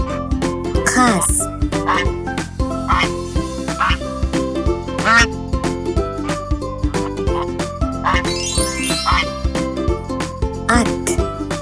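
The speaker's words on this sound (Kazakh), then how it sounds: "Қаз." A goose honks repeatedly over a busy, loud children's music backing, the calls rising above the steady beat.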